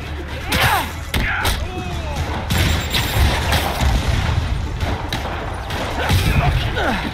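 Rocket explosions in the video game Spider-Man Remastered land as repeated heavy thuds and booms, loud and close, mixed with scattered impacts and a voice speaking over the action.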